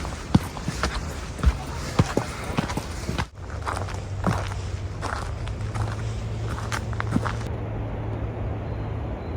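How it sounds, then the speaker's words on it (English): Footsteps climb outdoor steps on a coastal trail, a run of irregular close scuffs and thuds over wind and ambient outdoor noise, with the steps thinning out toward the end. "Up the steps we go."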